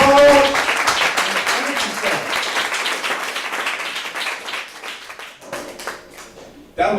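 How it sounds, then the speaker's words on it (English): An audience at a spoken-word lyric event claps for a performer, strong at first and then thinning and fading to scattered claps, with voices mixed in before a sudden loud burst at the very end. "give him a round of applause"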